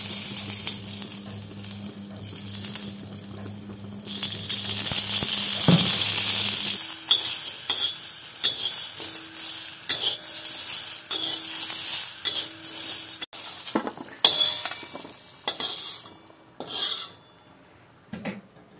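Tomatoes roast in a hot pan with a steady sizzle while a utensil stirs and scrapes against the metal in repeated strokes, close and fairly loud, with no talking.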